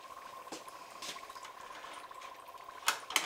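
Dry ice bubbles and fizzes in water for Halloween cocktails, a steady soft gurgling hiss with scattered pops and a sharper burst near the end, close and without talk.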